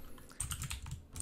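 Rapid clicking of a computer keyboard as code is typed, a quick close burst of keystrokes after a brief quiet start, with no talking.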